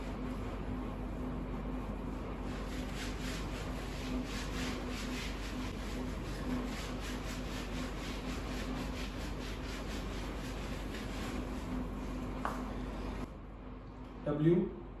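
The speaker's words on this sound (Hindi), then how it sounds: "तो ऑब्वियसली मुझे यहां से अब बोर्ड जो है उसको रब करना पड़ेगा सारा" A board is erased by rubbing, a steady scratchy swishing that runs for about thirteen seconds under a low hum, then stops, followed by a brief sound at the end.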